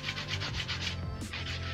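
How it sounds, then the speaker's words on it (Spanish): Coarse sandpaper rubbing along a wooden atlatl (spear-thrower) in steady back-and-forth strokes, close and moderately loud, with about six even rasping passes followed by a brief pause and a lighter scrape. "Voy a agarrar una lija gruesa para que sea más rápido y empezamos de esta manera a tallar todo lo que es nuestro atlas"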